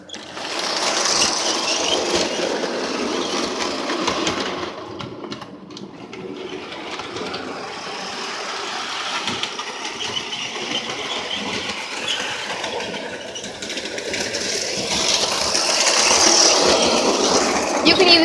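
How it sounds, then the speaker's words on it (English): A 1/27 scale New York Central model train runs steadily on its track, a continuous clattering mechanical whir close by that holds through the whole stretch without pause. "It's a 27th scale New York Central train."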